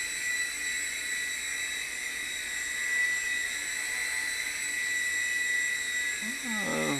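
A Hisky HFP80 V2 small RC helicopter hovers indoors, its rotors producing a steady, high-pitched whine with several sustained tones, continuous and close throughout, with a faint brief sound near the end.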